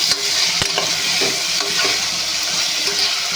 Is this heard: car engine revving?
no